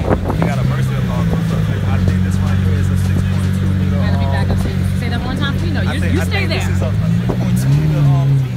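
A 6.2-liter V12 Lamborghini LP640 idles with a loud, deep, steady rumble and rises in pitch briefly near the end, while people talk over it throughout.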